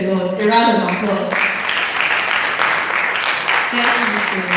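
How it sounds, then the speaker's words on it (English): A voice speaks briefly at the start, then a crowd breaks into sustained applause at a slum and rural health initiative session, continuing steadily to the end. "A round of applause."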